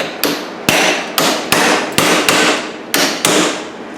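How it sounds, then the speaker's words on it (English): A hammer strikes a chisel to split a hub bearing race on a 2010 Honda Accord, nine sharp, loud metallic blows landing at an uneven, roughly half-second pace, each ringing briefly before the next. "Then we take a hammer and we put it in here."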